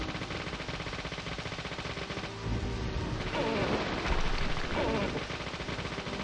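Rapid pistol gunshots crack in the video game Deadly Premonition, a steady run of shots against a busy, dense game soundtrack, louder bursts in the second half.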